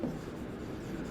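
Chalk or marker scratching steadily on a board during a chemistry lesson on electron configuration, a continuous close scraping stroke with no talk over it.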